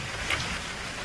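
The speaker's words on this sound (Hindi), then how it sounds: "बारिश तो रुकने का नाम ही नहीं ले रही" Heavy rain pours down steadily, a dense, even hiss of drops hitting surfaces, close and continuous, with no voices.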